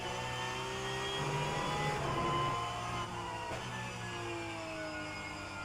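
The engine of a Porsche Cup race car in the rFactor 2 sim at Circuit Zolder holds a steady, loud, buzzing mid-range drone, with the pitch rising and falling slightly through gear and throttle changes and no talk over it.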